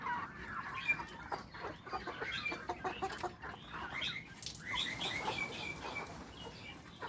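A flock of chickens clucks continuously with bursts of wing flapping, busy overlapping calls at low to moderate level in a poultry house during beak trimming.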